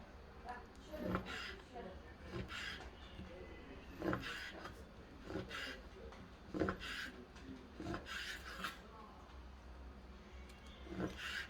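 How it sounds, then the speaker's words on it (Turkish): A knife slices rolled noodle dough into thin strips on a board, making faint, repeated soft rubbing and tapping cuts in a steady rhythm over low background noise. "ince ince kesiyoruz"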